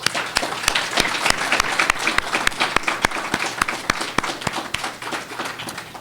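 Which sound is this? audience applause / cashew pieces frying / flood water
audience applause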